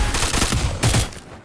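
Rapid automatic gunfire from the Free Fire video game during a 1v1 Lone Wolf round, several loud, close bursts packed into a second and a half.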